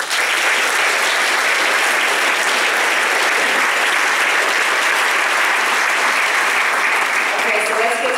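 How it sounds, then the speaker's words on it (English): Loud, dense audience applause fills a hall at an arts prize ceremony, a sustained even wash of clapping from many hands that carries on unbroken. "Let's give them all a round of applause."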